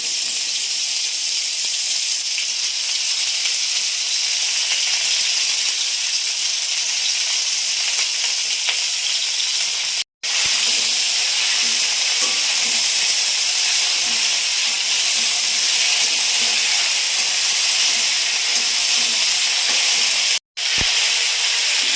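Kulekhara greens with potato and green banana hitting hot oil for a fish curry, a loud continuous sizzle and hiss of frying with two brief breaks.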